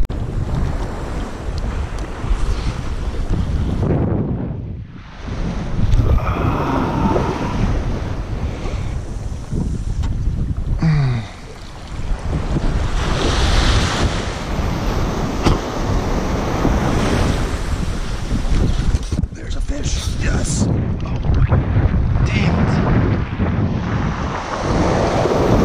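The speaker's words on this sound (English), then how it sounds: "Like we need to find better wind here. Stronger wind, stronger surf light." Ocean surf and wind on a New Jersey beach during striped bass fishing: a loud continuous roar of breaking waves mixed with gusts buffeting the microphone, with a few brief dips, and no talking.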